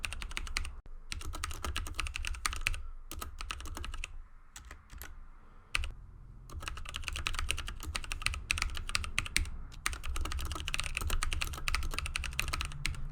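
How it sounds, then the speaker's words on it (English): Keys on a Logitech G512 Carbon mechanical keyboard clack in quick, dense bursts of typing, close and crisp, with brief pauses between runs. "Just listen to that clack of the keys"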